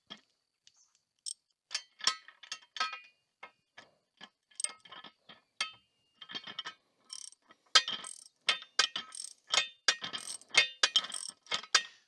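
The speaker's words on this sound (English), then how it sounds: "You're definitely going to need a socket and ratchet to tighten this front one right here down." A socket and ratchet tighten a bolt on a Challenge Targets Texas Star steel target, giving sparse clicks at first that build into quick close ratcheting bursts in a quiet space.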